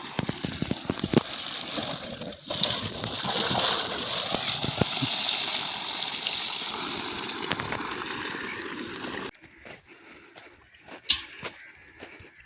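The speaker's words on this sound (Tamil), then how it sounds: "மோட்ரு பொட்டாச்சு பம்பு செட்டில் தண்ணி பிடிக்க போகிறோம்" Water gushes and sloshes from a village motor pump set into a container, a steady splashing flow that then cuts off, leaving quieter drips and a few sharp knocks.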